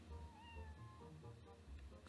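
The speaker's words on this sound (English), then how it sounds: "You were the very nice cat" A cat meows softly in the game Zelda: Twilight Princess, giving a few drawn-out rising and falling mews over a steady low background hum, with no talking.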